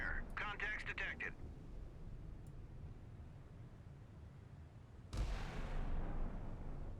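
30 mm naval guns firing during a naval battle in the Sea Power game, heard as a sudden loud, sustained roaring burst that starts late and runs to the end, after a voice speaks at the start.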